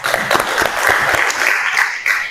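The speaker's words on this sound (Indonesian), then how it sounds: "sudah seperti Ustadz ini, tepuk tangan." A classroom group claps after a student's Arabic-language teaching presentation: a brisk, fairly loud round of applause from people close by that carries on without pause.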